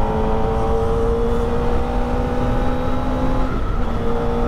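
A Kawasaki ZX25R motorcycle being ridden and shifted through the gears without the clutch, its engine a steady, loud, high-pitched drone that shifts in pitch near the end, with no talking.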